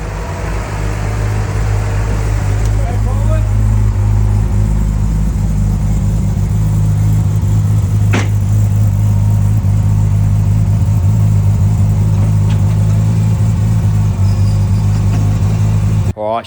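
A Holden VL Commodore with an RB30 engine runs on its first drive, giving a loud, close, steady engine drone with a deep hum that holds for the whole stretch and cuts off sharply at the very end.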